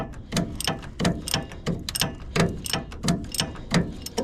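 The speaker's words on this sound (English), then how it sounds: "I gotta keep messing with it with the breaker bar because wow, that's still hard." A breaker bar ratcheting on the front wheel hub bolts of a 2014 Chevy Express 1500, sharp metallic clicks repeating in a steady rhythm of about one and a half per second, close and clear.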